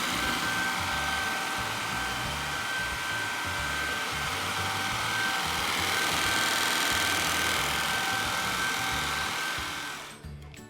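A Shark IZ201UK cordless vacuum cleaner runs with a steady, loud, high-pitched whine and airy roar while picking up Cheerios, then cuts off near the end.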